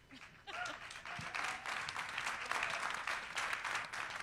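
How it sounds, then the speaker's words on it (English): Steady, dense applause fills an Oklahoma town hall on education and literacy, rising quickly after a brief quiet start and holding at an even, full level throughout. "Round of applause for Sandra."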